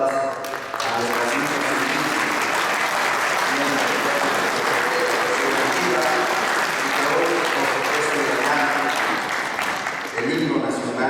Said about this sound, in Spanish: vamos a brindarle un fuerte aplauso a nuestras